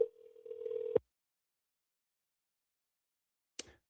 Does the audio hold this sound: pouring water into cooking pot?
no